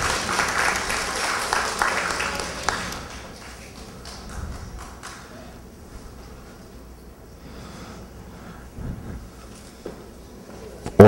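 A crowd at a Miraflores prize draw for punctual neighbours claps loudly for the winner for a few seconds. The clapping then thins out into scattered taps, thumps and murmuring room noise.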